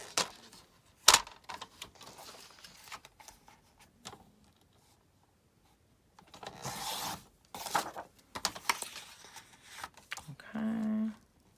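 Scissors snip through paper while a heart shape is cut out for a 3D Valentine's card, giving a few soft, scattered crisp cuts and rustles at close range with quiet gaps between them.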